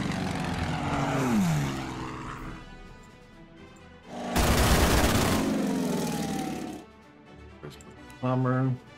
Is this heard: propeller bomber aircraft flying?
yes